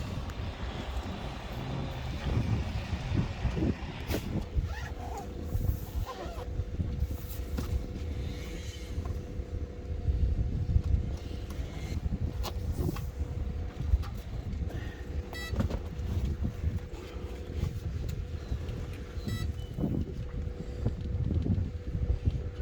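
Wind blows steadily outdoors during drone fishing, a continuous low rumbling gust that buffets the microphone and carries on unbroken for the whole stretch, with no talking.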